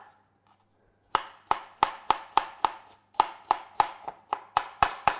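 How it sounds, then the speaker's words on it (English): A knife dicing a green apple on a board, about fifteen crisp, evenly spaced chops close up in two quick runs after a second of near silence, no talking. "So you kind of nearly use up one of the whole apples to do the dicing."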